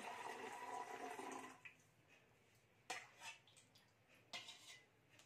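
Water pours from a small glass into a water bottle in a steady gurgling stream for over a second, followed by faint clinks and taps of the glass and bottle.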